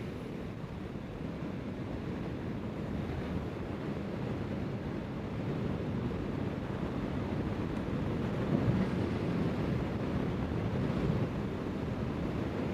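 Steady low rumbling wind buffeting the microphone on a windy day outdoors, continuous and loud throughout with no voices.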